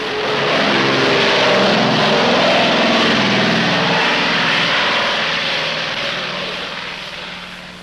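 Propeller aircraft taking off or landing at a busy Air America airstrip in Laos, a loud sustained engine drone that swells and then slowly fades as the plane moves away.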